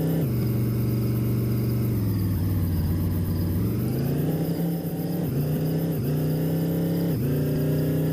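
Car driving in the game Dude Theft Wars, a steady engine drone whose pitch dips and climbs with throttle changes, continuous and close with no voices.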